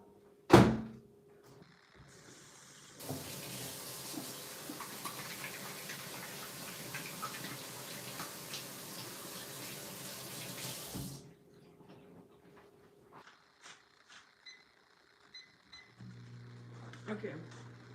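Kitchen tap running steadily for several seconds while hands are washed, bracketed by a loud knock at the start and scattered clatter after the water stops.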